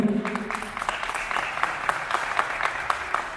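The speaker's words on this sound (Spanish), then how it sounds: "Un aplauso para la secundaria, ¿sí?" Audience clapping at a school Day of the Dead event, a continuous patter of many hands with distinct sharp claps standing out, beginning over a brief murmur of voices.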